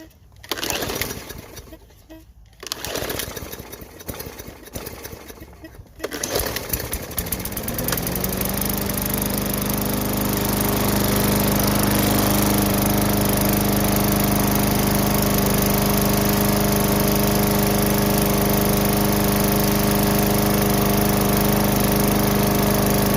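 A Craftsman lawn mower with a Briggs and Stratton 500e engine sputters through a few rough tries, then catches and settles into a loud, steady close-up engine drone that holds to the end.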